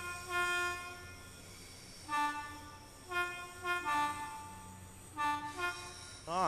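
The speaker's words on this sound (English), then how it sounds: "Actual echo on the sounds in the train shed." Train horn toots echo through a train shed on the Cathcart Circle Line in Train Sim World 2, several short sustained blasts spaced apart over a steady rumbling rail background, reverberant and moderately loud.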